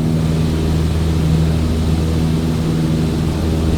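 Steady propeller engine drone of a small plane in Microsoft Flight Simulator, a loud continuous hum with stable low tones throughout, no voices.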